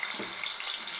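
Potatoes frying in hot oil in a wok for a cauliflower dish, a continuous bright hissing sizzle, close and steady throughout the brief moment with no voices.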